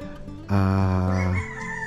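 A Larry Romero Grays gamefowl rooster crows once, loud and close, a long harmonic call lasting about a second over a faint background.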